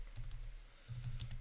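Soft keystrokes on a computer keyboard come in two short, quiet clusters of taps separated by a pause, close by in a calm room.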